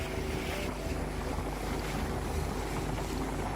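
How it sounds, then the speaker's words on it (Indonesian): A speedboat runs toward outlying islands on a cloudy day over choppy water, its steady engine drone mixed with rushing water and heavy wind buffeting the microphone, loud and continuous with no voices. "Akhirnya saya bisa merasakan lagi naik speedboat menuju pulau-pulau terluar"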